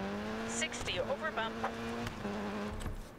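A rally car engine in the Dirt 4 racing video game drones steadily with brief revving, heard under a person talking over the game audio.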